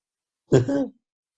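A man clears his throat once during an evening science class, a short, close, rough burst of under half a second with no talk around it.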